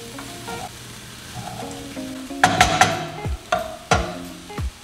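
Ground meat and vegetables for egg roll in a bowl sizzle in a pan over low to medium heat, with a steady fry under sharp scraping and clanking of a utensil against the pan in the second half.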